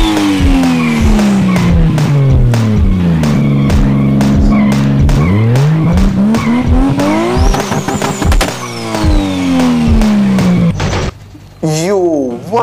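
Cars drifting in a modded GTA San Andreas game, with loud revving engines and repeated tire squeals and skids close up, ending in a wavering screech.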